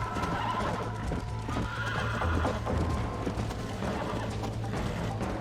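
A horse whinnies over steady hoof clip-clops in a Red Dead Redemption game soundscape, with faint birds cooing in the background; no one speaks.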